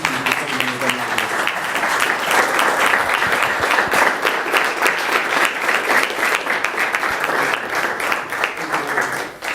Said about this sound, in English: If you guys wouldn't mind just standing up and just giving Bobby a round of applause.